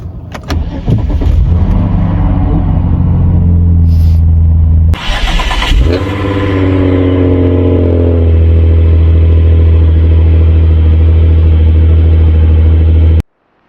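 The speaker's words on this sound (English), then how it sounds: "about to do a cold start with this stock exhaust" A Hyundai Genesis Coupe engine cranks with sharp clicks on a cold start, fires up with a loud roar, then settles into a deep, steady rumbling idle from a stock exhaust before abruptly cutting off.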